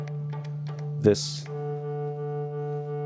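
A Korg electronic resonator, kept ringing through its coil, holds a steady, buzzy sustained tone, with a short spoken word breaking in partway through.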